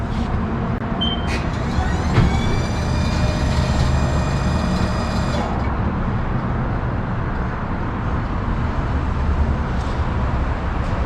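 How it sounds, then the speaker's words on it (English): A wheel balancer spinning a tire and wheel assembly, a loud steady mechanical whir with a rising whine that fades after about five seconds, then continued hum. "So go ahead and put it on the balancer. Let's give her a spin."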